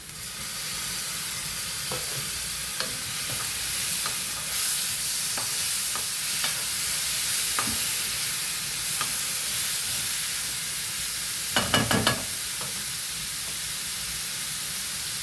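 Tomatoes fry in a pan for an Andhra Rayalaseema-style bitter gourd tomato curry, giving a continuous close sizzle. Light stirring scrapes run through it, with a brief clatter of the spoon near the end, and no one talks.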